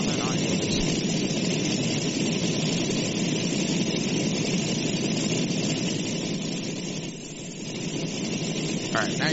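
A loud, steady propeller engine of a warplane in a flight simulator drones continuously at an even pitch, filling the whole stretch with little variation.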